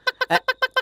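A voice imitates a hen with six quick, evenly spaced clucks, the middle one harsher and longer, close and clear.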